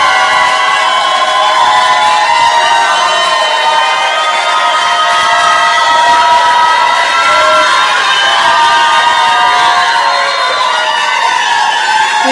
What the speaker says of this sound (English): this is the time you all are all allowed to break the rule and show your appreciation with applause.